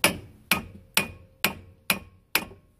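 Six evenly spaced, sharp metallic hammer blows, about half a second apart, strike a seized brake piston on a 2000 Subaru Outback; each hit rings briefly and decays before the next, close and fairly loud.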